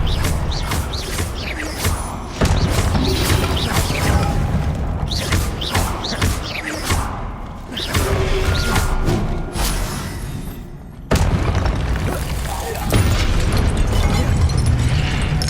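Confringo fire spells explode again and again during combat in the Hogwarts Legacy video game on PS5. Loud booming blasts and crashes come in rapid succession over a dense battle soundscape, with no talking.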